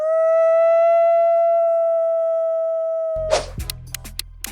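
A wolf gives one long, steady, even-pitched howl lasting about three seconds, alone and clear, before a short burst of unrelated sound cuts in.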